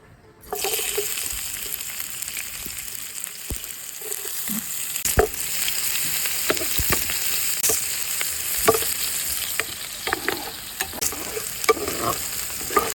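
Chopped onions and green chilies frying in oil for chicken liver bhuna, a steady close sizzle broken by repeated stirring scrapes and clinks, starting after a brief near-silent moment, no voices.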